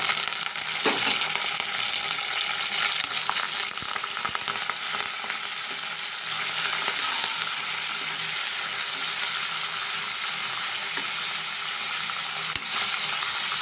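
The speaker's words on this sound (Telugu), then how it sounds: "మనం జీలకర్రని, కరివేపాకు, కొత్తిమీర దీంట్లో వేసేసుకుని ఫ్రై చేసుకున్నామండి" Cumin seeds, curry leaves and coriander frying in hot oil give a steady, dense sizzle that runs unbroken throughout, with an occasional stir and no talking.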